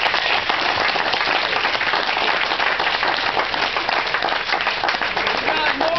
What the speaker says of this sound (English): How about a round of applause for these wonderful people?